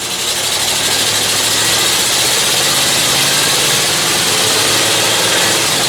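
A C60 vehicle's engine runs loud and steady with a dense, rumbling drone that holds at a constant level through the clip, with no clear breaks from gear changes.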